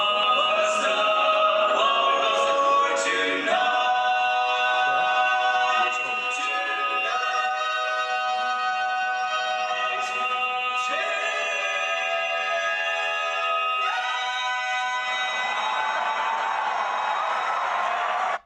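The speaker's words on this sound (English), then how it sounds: "I've just got some barbershop tags here" A barbershop quartet sings the closing tag of a song in close four-part harmony, held chords shifting step by step before a long final swell and sustained ring, with no talking.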